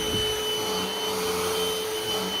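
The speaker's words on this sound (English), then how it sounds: "actually vacuum the chairs." Loud, steady whine of a vacuum cleaner cleaning upholstered chairs, a continuous motor drone with a sustained high tone, close to the microphone and alone without talk.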